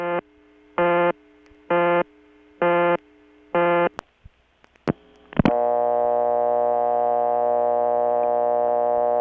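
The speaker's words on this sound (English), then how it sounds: "The next calls are to Amenia, New York, which has new CDO ring." Telephone ringback on a line into a Bell System 355 step-by-step office in Amenia, New York, in 1980: five evenly spaced short tone bursts, then a few sharp clicks and a steady, unbroken tone.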